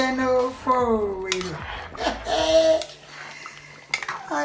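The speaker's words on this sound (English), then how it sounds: "I stir." A spoon scrapes and clinks inside a pot as Ofe Owerri soup, seasoned with Maggi cubes and salt, is stirred up close, with a voice briefly heard over the clatter.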